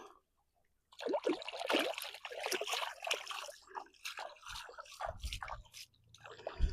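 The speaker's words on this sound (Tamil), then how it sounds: "அப்படியே ஓட தண்ணியில கழுவும்" Tubers are rinsed under running water outdoors in a village setting, giving a continuous splashing, trickling wash with sloshing bursts that begins after a short pause and runs steadily throughout.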